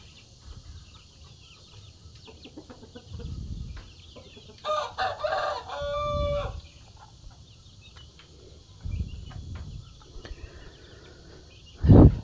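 Madura chickens in a coop, with a rooster crowing a few times in a row and scattered clucks, alongside low thumps and faint background chirping.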